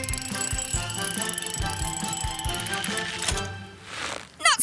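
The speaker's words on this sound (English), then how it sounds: "Let's use your winch to lower me down." A cartoon winch ratchets as it lowers someone down, a rapid, regular mechanical clicking with clanking gear sounds. It ends in a short whooshing swell and a couple of sharp metallic hits.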